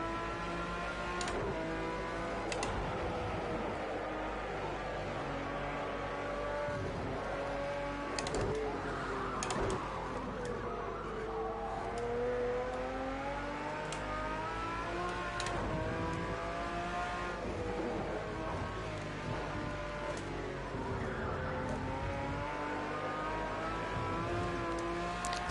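A racing car engine at Oschersleben in a racing video game drones steadily throughout, its pitch rising and falling with gear changes and throttle as it laps, close and continuous with no talk over it.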